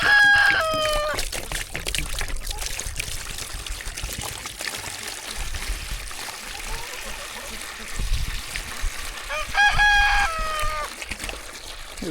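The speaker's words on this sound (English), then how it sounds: "the geese get in here and take a bath and make short work of the water supply" Geese splash and bathe in a water bowl on a farm pasture, with steady trickling and sloshing water throughout and two loud bursts of honking or crowing calls, one at the start and one near the end.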